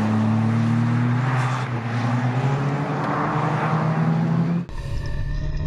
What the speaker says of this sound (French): je dépasse d'ailleurs la dernière voiture, la numéro 22